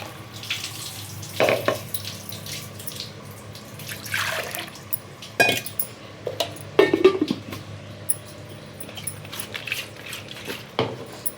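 Water swished in a mixer jar and poured into a pan of flat beans and tomato, with intermittent splashing pours and light clinks of the jar against metal at close range.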